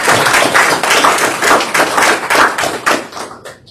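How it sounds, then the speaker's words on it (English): Council meeting audience clapping, a mid-sized group applauding in uneven bursts that swell and dip, fairly loud and close, tapering off sharply at the end. "So let's give them a round of applause."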